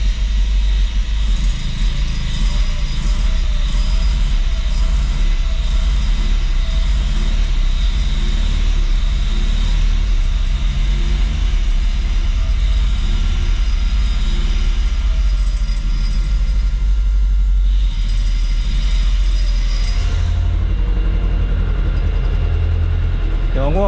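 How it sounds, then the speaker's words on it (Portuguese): A 1994 Chevrolet Monza GLS, stored for years with old fuel in the system, runs steadily at idle with a loud whining fuel pump and a loose exhaust, a constant low engine drone close by under occasional talk. "essa bomba de gasolina tá berrando muito, tá fazendo muito barulho."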